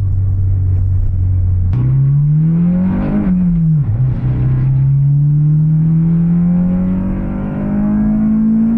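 An Acura RSX's engine drones close and loud while driving, the pitch stepping up through a gear change, dipping, then climbing steadily as it revs.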